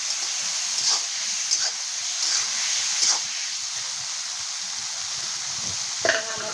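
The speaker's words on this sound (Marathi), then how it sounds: "आता ह्यामध्ये आपण बारीक केलेलं टोमॅटो टाकून घेतो तो पण आपल्याला मस्त असं हलवून घ्यायचं आहे" Chopped tomato is stirred into frying chicken chilli in a pan, a soft, steady hiss with a few brief scraping stirs and a sharper clatter near the end.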